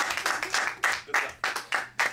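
Audience applause for Dakota during a training session, a burst of clapping with rhythmic swells and pulses that holds at steady strength for a couple of seconds.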